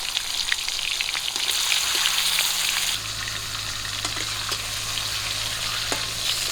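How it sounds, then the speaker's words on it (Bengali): Pieces of pangas fish fry in a little hot oil, a dense, close crackling sizzle that steps down slightly in loudness partway through, with occasional faint clicks and no voices. "আর পাঙাল মাছ ভাজা করতে কিন্তু তেল বেশি একটা লাগে না পাঙাল মাছ দিয়ে তেল বেরোয়"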